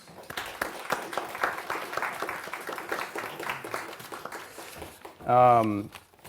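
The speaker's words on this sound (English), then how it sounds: "Let's give them a round of applause" Scattered applause from a panel discussion audience, light and moderately close, fading after a few seconds before a brief louder voice breaks in.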